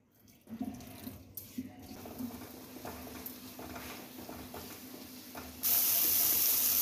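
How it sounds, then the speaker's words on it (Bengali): Water is poured into a ground cumin spice paste frying in a wok: soft sizzling and stirring, then a loud, sudden rush of pouring water near the end, close by and without speech. "এর মধ্যে এবার আমি সামান্য পরিমাণে জল দেব, মশলাটা যেন কড়াই লেগে না যায়।"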